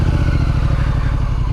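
A Triumph Street Scrambler Sandstorm motorcycle ridden around Canterbury, its engine giving a loud, steady low throbbing drone close up, with faint rattling over it.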